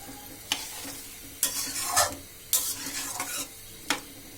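A curry of rohu fish, potato, eggplant and greens stalks is stir-fried in a pan. About half a dozen sharp spatula scrapes land at uneven intervals over a low sizzle, close by with no talking.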